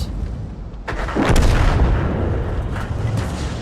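A tank cannon fires in a tank video game, one heavy booming shot whose low rumble swells and slowly fades over several seconds.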